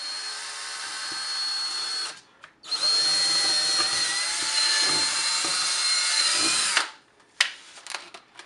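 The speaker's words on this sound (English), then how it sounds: "Take our 1/8 inch drill bit, drill a pilot hole right where X marks." A power drill with a 1/8 inch bit whirs steadily for several seconds drilling a pilot hole through foam, stops briefly, then runs again before cutting off, followed by a few light knocks.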